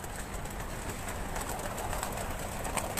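Low, soft cooing of a pigeon on a rooftop repeats over a dense, noisy background of steady rumble and hiss.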